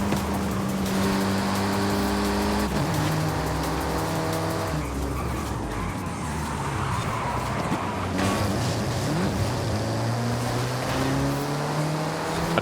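Porsches race and bump into each other in Night-Runners, engines droning and shifting pitch over a steady road roar, with tire squeal and scraping contact, loud and close.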